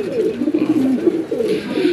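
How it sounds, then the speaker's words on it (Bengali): A Rajgola pigeon coos in a steady, continuous run of low, throaty rolling calls, close and clear, with no other sounds. "আমরা সবাই দেখতে পাচ্ছি এক পিস অসাধারণ রাজগোলা কবুতর"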